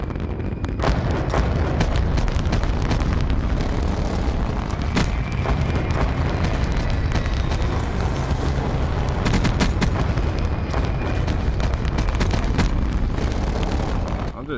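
Sustained rapid gunfire from a shark-themed weapon in a shooter video game, the tigershark, with dense repeated bursts and booming impacts running loud and continuous throughout.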